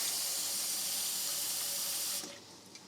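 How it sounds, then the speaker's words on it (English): Water pours out steadily as washed beans are drained by hand in a kitchen, a close continuous rushing splash that stops abruptly near the end, leaving only faint drips. "Keep your hand underneath as the water comes out, so you catch the beans as they're falling out as well."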